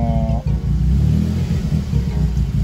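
Tuned Suzuki Jimny JB23 demo car engine idling steadily during a power check, a loud, close, continuous low rumble with a faint high whine, alone without talk.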